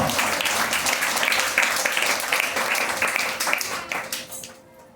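A church congregation at a Sunday worship service claps loudly and continuously, a dense wash of many hands that keeps going before fading out at the very end.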